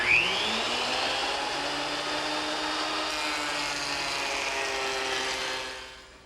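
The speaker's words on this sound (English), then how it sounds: "I return again to the surface planer. And I'm going to run the face opposite the edge I just ran through the joiner" A surface planer feeds a wood board in a workshop, giving a loud, steady motorized roar with a whining cutter tone that holds for several seconds, then dies down at the end.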